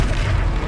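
A Confringo spell explosion in the video game Hogwarts Legacy, a single loud, deep, rumbling boom filling the brief moment at close range.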